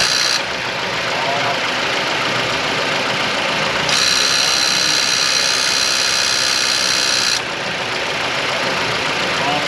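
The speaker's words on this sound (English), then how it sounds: "that confirms that the noise is in fact that compressing unit" A running 2007 Mazda CX-7 2.3 with its AC compressor engaged gives a steady mechanical engine drone with a brighter whining layer that rises in the middle and then drops away as the AC switches off.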